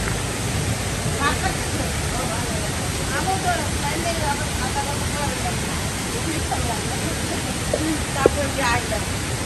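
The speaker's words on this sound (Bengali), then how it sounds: "হয়তো আমার কথা এত ভালোভাবে শোনা যাবে না কারণ আমি যে যে জায়গায় আছি সেটা হলো পাশেই ঝর্ণায়" A waterfall rushes close by in a garden setting, a constant broad hiss and roar running unbroken underneath, while people talk faintly over it.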